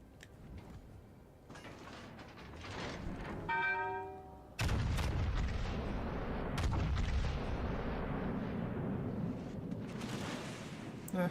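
Battleship guns fire in World of Warships: Legends, heavy booming blasts punctuating the stretch, with a sharp salvo near the middle followed by sustained rumbling and mechanical clatter at moderate loudness.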